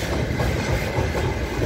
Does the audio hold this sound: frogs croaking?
no